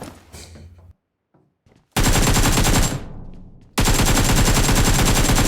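Gunfire from the PUBG Mobile video game: loud bursts of automatic shots, then a short near-silent gap, then heavier, sustained rapid fire that carries to the end with no one speaking.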